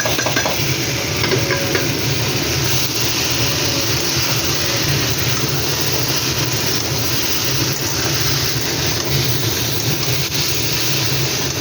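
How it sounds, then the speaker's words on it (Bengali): Fried kachki fish stirred into a sizzling curry in a pan, a continuous close sizzle with scraping stir sounds throughout, no voices. "এবার এই ভাজা মাছটা আমি দিয়ে দেবো"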